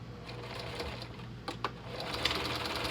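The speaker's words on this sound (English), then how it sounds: "Sew down both of these sections first, and leave these elastic sleeves open" Sewing machine running steadily as it stitches down sections of a clown Lolita costume near elastic sleeve openings, a continuous close mechanical whir with a few brief louder clicks partway through.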